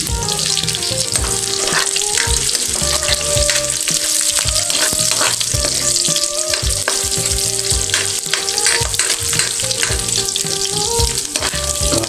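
Onion and ginger fry with garlic in a pan, giving a loud, steady, close sizzle with frequent stirring scrapes and clicks throughout and no voices.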